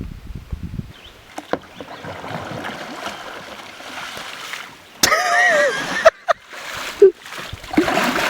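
A kayak is paddled up a shallow creek, with quiet rippling water at first and then sharper close splashes and paddle strokes in bursts during the second half.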